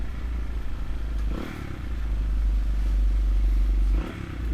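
A restored Honda XR200RC motorcycle ridden along a road near Table Mountain, its single-cylinder engine thrumming close and loud with a steady low pulse that builds, then eases off near the end, with wind rushing past.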